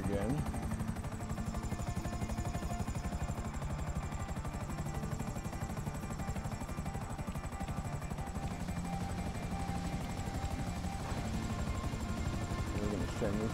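Helicopter in a video game, with a steady rotor chop and whine that holds throughout, loud and continuous, while someone talks over it.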